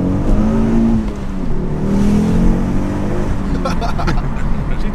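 A Ford Focus RS accelerating hard with traction control switched off. The engine drone rises and holds loud and close for about five seconds, with voices talking over it.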